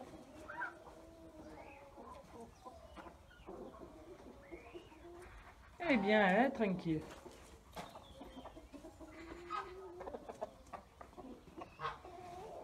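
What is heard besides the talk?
hens clucking in a chicken coop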